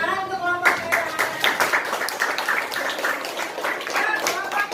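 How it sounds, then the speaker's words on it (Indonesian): A school class claps for a group of classmates, brisk scattered clapping from many hands, with a voice speaking briefly at the start. "tepuk tangan untuk kelompok merah"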